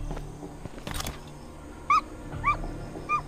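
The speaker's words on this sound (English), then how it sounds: "The puppy, come here," Puppy whimpering in Doomsday: Last Survivors, a few short high-pitched whines spaced out after a stretch of dull game ambience and clatter, with no talk.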